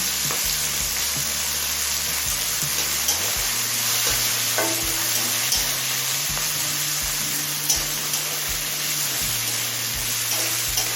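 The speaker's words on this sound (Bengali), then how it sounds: "এবার আদার কাঁচা বন্ধ চলে যাওয়া পর্যন্ত কষিয়ে নেব" Peas frying with grated ginger in a pan for pea pulao, a steady sizzle with repeated stirring scrapes and low thumps throughout, close and fairly loud, no talking.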